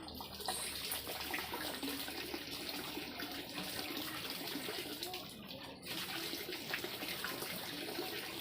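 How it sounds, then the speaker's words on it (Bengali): Tap water runs steadily for bottle filling in a garden with chilli plants, a continuous broadband rush that stays alone and unbroken throughout. "আর বোতলগুলো ভরবো এখানে।"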